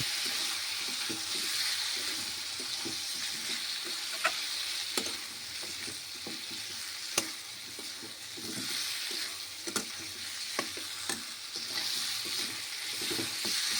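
Pieces of chicken frying in a pan with turmeric and chili powder, being stirred, with a steady sizzle under repeated scraping and stirring strokes and a few sharp utensil clinks against the pan.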